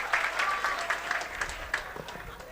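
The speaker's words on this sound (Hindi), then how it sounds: "एक बार जोरदार ताली दे दो भाई।" A crowd claps loudly at a gathering, dense irregular applause with sharp hand-clap bursts lasting the whole stretch, with faint voices mixed in.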